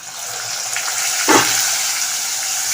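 Chopped onion going into hot oil already seasoned with cumin, asafoetida and green chilli: a steady close sizzle with one sharp louder burst midway as it hits the pan.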